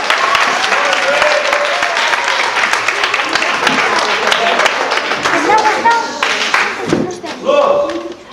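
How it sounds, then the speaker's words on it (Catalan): A loud, dense round of applause fills a room for a spelling game show, with voices calling out over the clapping and a few thumps and taps as it begins to die down near the end. "Un aplaudiment molt fort!"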